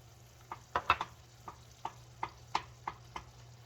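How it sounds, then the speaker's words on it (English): Butter stirred into hot peanut brittle syrup at about 240 degrees: a soft, steady sizzle with around nine sharp scrapes and taps of the utensil against the pot at a loose rhythm, close and quiet. "we're about 240 degrees, so let's go ahead and we'll add this butter in"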